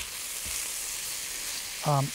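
Salmon fillets fry in a pan with butter and canola oil, giving a steady, hissing sizzle that runs throughout, with a brief louder clatter near the end.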